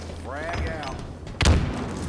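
A frag grenade in Halo goes off as a single short, heavy boom midway through, after a stretch of whooshing game effects and a brief rising tone.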